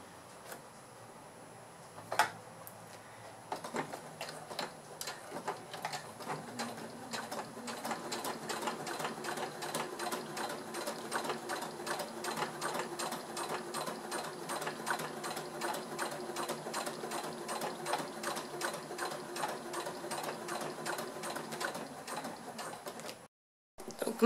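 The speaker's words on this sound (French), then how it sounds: "Pour cette surpiqûre, j'utilise mon pied téflon pour que ça glisse mieux sur le plastique cristal." A sewing machine topstitching fabric onto clear plastic with a Teflon foot, a fast, steady mechanical rattle of stitches running for about twenty seconds after a few starting clicks, then stopping abruptly.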